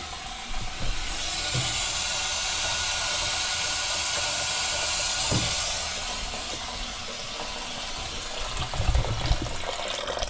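Water rushes steadily through newly fitted domestic plumbing under leak test, a continuous hiss with faint knocks and a louder gurgling surge near the end; no talking.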